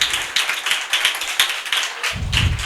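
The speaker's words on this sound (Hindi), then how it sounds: "जोरदार तालियां बजाएं बहनें।" An audience of women clapping in a room, a sharp run of quick hand claps at a steady close rhythm, fairly loud, with a low murmur near the end.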